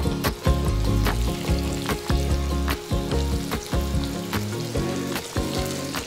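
Pieces of chicken fry in hot olive oil, a steady crackling sizzle close by, broken by repeated clinks and scrapes of a utensil moving the pieces, with no talk.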